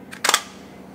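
A medium format camera shutter fires at the start of a long exposure, giving a quick double-click burst up close, with a faint earlier tick just before it.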